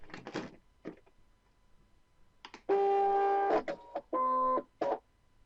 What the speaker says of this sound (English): I load the mat in exactly the same way as I do for every other operation